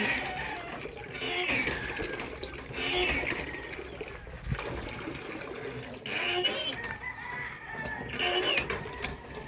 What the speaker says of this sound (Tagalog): Ya adaduwa nga manok.